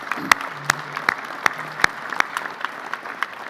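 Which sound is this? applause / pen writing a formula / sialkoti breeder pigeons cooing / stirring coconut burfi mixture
applause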